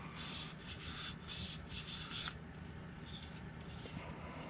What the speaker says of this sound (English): You could even use a light grit sandpaper on the rims if you wanted to.